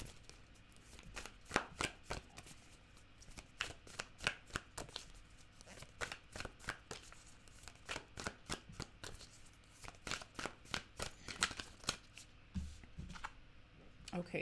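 Tarot cards are shuffled by hand in a steady, soft rhythm of papery riffles and taps, fairly quiet and close, continuing throughout.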